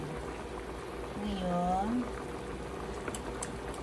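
Chicken tinola soup boiling in a pot, a quiet steady bubbling under brief talk.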